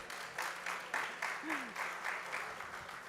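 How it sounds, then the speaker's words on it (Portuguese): Audience clapping welcomes a panel moderator to the stage at a conference on the sector's future and traceability, with bursts of applause swelling and easing in waves across the room. "Uma salva de palmas para o Belo."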